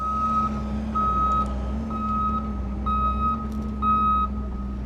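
A 535D machine's reversing alarm beeps steadily, five evenly spaced loud tones over a constant low diesel engine drone, with no talk.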